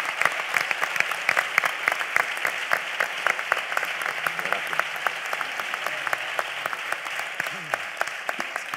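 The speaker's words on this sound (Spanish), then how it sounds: "el aplauso más grande para ellos y evidentemente para ustedes" Dense, sustained applause from a theatre audience at a carnival-themed talk, a steady wash of many hands clapping at even loudness with no pauses, moderately distant.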